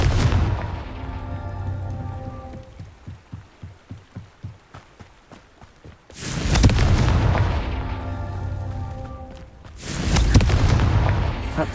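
Confringo blasting-spell explosions in Hogwarts Legacy: a first boom fades into a run of rapid crackling pops, then two more loud, heavy booms follow with rumbling tails.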